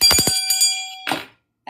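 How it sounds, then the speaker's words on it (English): A regular hand bell rings in a quick series of bright strikes with a sustained tone, then a louder burst of clatter before a pause and a fresh strike at the end. "I changed my bell to my regular bell."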